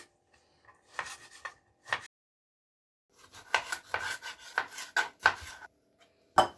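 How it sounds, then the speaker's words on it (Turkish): A knife cuts tomatoes into large chunks on a cutting board in short bursts, with a pause partway before a quicker series of close, crisp chops. "Domateslerin başlarını alıyorum. İri kuşbaşı halinde doğruyorum."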